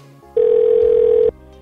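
A telephone rings out once in a single steady, loud electronic tone lasting about a second while a call to a mall goes through, with quiet background before and after.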